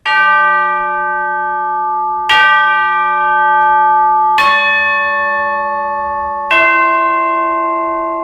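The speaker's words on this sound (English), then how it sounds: "Tubular bells, always important to me." Four tubular bell strikes from the Spitfire Symphony Orchestra sample library ring out at even intervals, each bright metallic tone sustaining and overlapping into the next with long shimmering decay.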